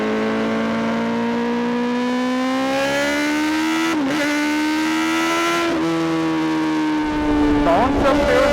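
Kawasaki ZX10R with a stage 2 exhaust downshifting, a loud, close engine note dropping and climbing in pitch with sharp breaks at each gear change and a rough burst near the end.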